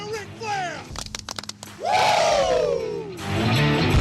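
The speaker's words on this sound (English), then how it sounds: "Now give me 2 claps and a Ric Flair." A crowd at an American Legion baseball game between Richland Post 215 and Aiken Post 26 claps twice in sharp quick hits, then lets out a long rising collective woo that falls away, followed by more cheering.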